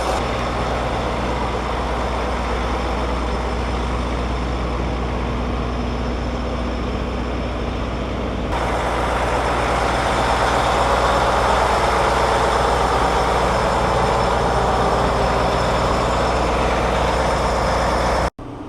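A Prevost tour bus engine idles with a loud, continuous low rumble and a steady mechanical drone that thickens partway through and holds unbroken for a long stretch, with no voices.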